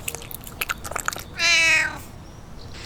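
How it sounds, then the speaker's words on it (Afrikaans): A cat lets out one clear, drawn-out meow as a story sound effect, preceded by soft chewing and crunching noises. "Sy moes veearts toe gaan want die kat het gras geëet."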